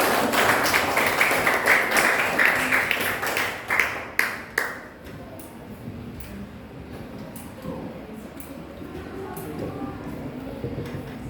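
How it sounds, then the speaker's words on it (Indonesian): Classroom students applauding together, a dense burst of clapping for about four seconds that ends in a few scattered claps before the room falls quiet. "Beri tepuk tangan."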